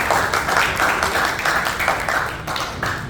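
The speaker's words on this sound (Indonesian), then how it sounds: "Sebelumnya kita sambut tepuk tangan yang mulia." A talk show audience breaks into steady, dense applause that is loud and continuous throughout, with no voices over it.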